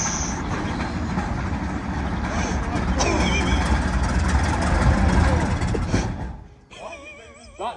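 A T-72 tank's diesel engine cranks on compressed air for its first start: a loud, close, roaring rumble with hiss that builds for about six seconds, then drops away into wavering, uneven tones.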